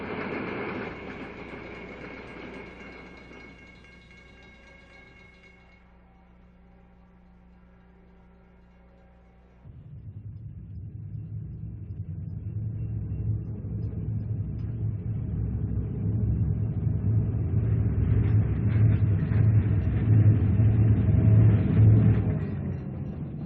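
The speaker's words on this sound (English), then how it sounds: "train number 6, the Fifth Avenue, combined with the Cleveland Limited, comes out of Central Union Terminal on its way to New York" A New York Central diesel passenger train, number 6, the Fifth Avenue combined with the Cleveland Limited, leaving Central Union Terminal: a low idling hum gives way to a loud, steady engine rumble that builds and holds close by.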